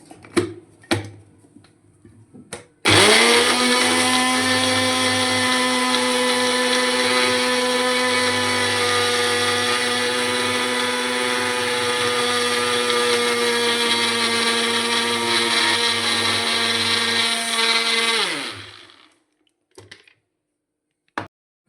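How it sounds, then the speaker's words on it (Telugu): A mixer grinder blends a pineapple almond milkshake, a loud steady motor whir starting abruptly after a few seconds, running about fifteen seconds, then winding down and stopping. "ఇప్పుడు మనం మిక్సీ పట్టుకుందామండి"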